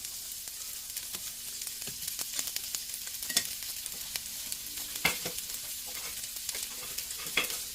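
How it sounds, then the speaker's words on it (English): Garlic and onion frying in a hot pan of oil for a chicken curry, a steady close sizzle with occasional stirring scrapes and pops. "Love them frying sounds and the smell from onion and the garlic already."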